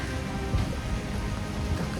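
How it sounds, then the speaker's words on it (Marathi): Heavy rain pours during a muddy trek on the Pavankhind trail, a steady, dense, close hiss of falling water without pause or speech. "कारण फुल्ल पाऊस आहे सगळे अंग भिजले"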